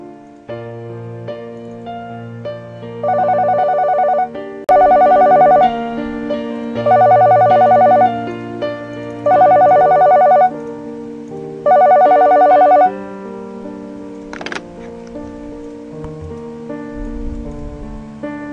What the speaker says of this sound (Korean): 그러던 와중에 한 제보 전화가 걸려왔다